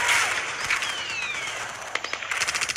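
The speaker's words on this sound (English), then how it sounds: "Grenade!" Sudden loud bursts of gunfire-like cracks and a sharp blast rattle through a toy army men stop-motion war battle, with rapid popping shots continuing to the end and no talk.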